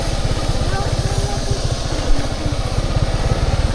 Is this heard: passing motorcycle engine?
yes